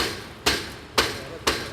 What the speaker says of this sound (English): you break the beads off when you're racking it with that hammer